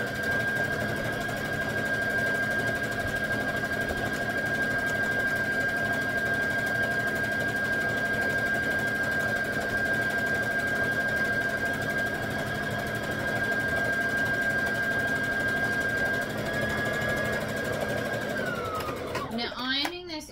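A sewing machine stitches continuously along the edge of a wrap skirt, a steady close mechanical whir running without pause for nearly the whole stretch before it slows and stops near the end.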